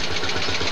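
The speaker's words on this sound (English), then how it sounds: "Then we have a Lance tractor." A 1942 Lanz tractor of 55 horsepower chugs steadily and close by during a 1985 centennial parade in South Dakota, a continuous loud, rumbling engine drone with a faint rhythmic pulse.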